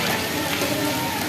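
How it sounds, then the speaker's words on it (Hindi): Heavy rain pours down in a steady broadband hiss, close and continuous, while vehicles are being sheltered indoors from the downpour. "बारिश जो है वो काफ़ी ज़्यादा आ गई है"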